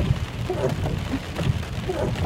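Heavy flood-like rain pours during a storm on the road home, a dense, loud, unbroken roar with faint voices buried underneath.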